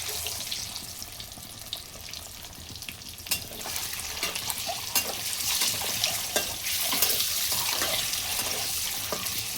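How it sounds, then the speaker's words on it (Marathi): Eggs fry in a pan with a continuous bright hiss and crackle that grows slightly louder, broken by occasional stirring scrapes up close. "असे अंडे चांगले फ्राय करून घ्यायचे ते."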